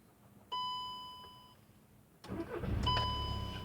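A 2009 Volkswagen Touran with a faulty DSG7 gearbox restarts: an electronic chime sounds first, then the engine catches and settles into a loud, close idle while a second chime rings over it.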